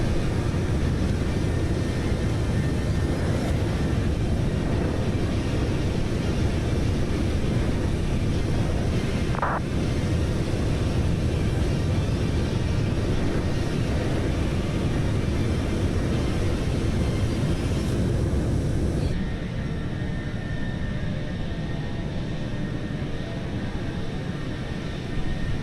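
Steady, even roar of an airliner cruising in Microsoft Flight Simulator on a flight from Lyon to Tromsø, a constant broadband engine and wind drone that continues unchanged throughout.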